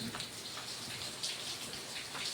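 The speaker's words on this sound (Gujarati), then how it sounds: "બહુ વરસાદ છે" Heavy rain falls steadily outside a storage shed at a farm, heard from inside as a constant, dense hiss of drops on surfaces, fairly faint and even throughout with no talking.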